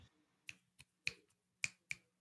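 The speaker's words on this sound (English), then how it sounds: "That's me clapping." Five faint, crisp hand claps land at an uneven pace, each a quick sharp snap with nothing else heard between them.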